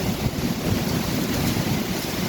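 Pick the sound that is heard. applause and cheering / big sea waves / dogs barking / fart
big sea waves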